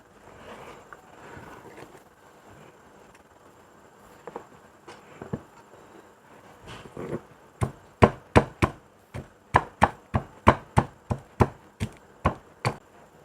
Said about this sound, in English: I'm gonna crush the garlic